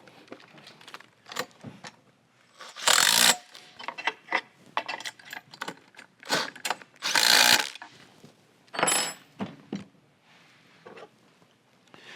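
Pre-assembly housing of a XERO Pure Plus water filter being tightened by hand, with short clicks, scrapes and two louder grinding bursts of plastic on plastic, close and intermittent, with no talking.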